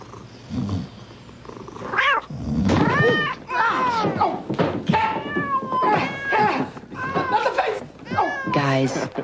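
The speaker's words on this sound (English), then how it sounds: "Cat went nuts." A cat meows and caterwauls in long, wavering, rising-and-falling yowls, loud and close, one cry after another with brief gaps between them.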